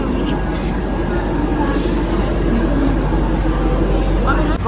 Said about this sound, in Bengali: শিলিগুড়ি থেকে ছাড়লো ট্রেন।